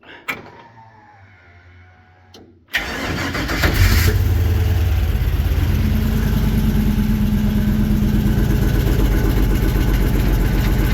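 A 1954 Chevy 3100 truck engine cranks and catches after a quiet stretch, then settles into a loud, steady, close rumble at idle, with no talk.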